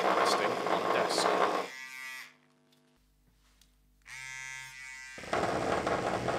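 An electric toothbrush rests running on a desk, giving a steady buzzing hum with strong harmonics, alone for a few seconds in the middle and under a person talking before and after.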